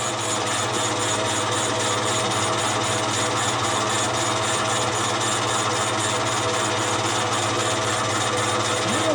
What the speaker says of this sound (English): I could sharpen my stone and it would grind a lot faster